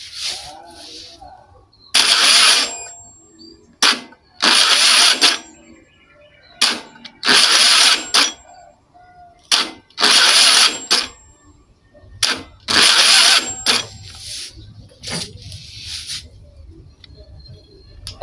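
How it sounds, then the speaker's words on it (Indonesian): A Honda Scoopy FI scooter's electric starter cranks the engine roughly, with about eight short, loud, grinding bursts separated by brief pauses. "Saya akan tekan tombol starter."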